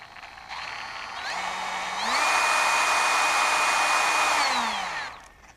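A Dewalt XR 18V cordless brushless die grinder winds up from a lower idle to 25,000 RPM, its loud steady high-pitched whine holding for a few seconds before spinning back down.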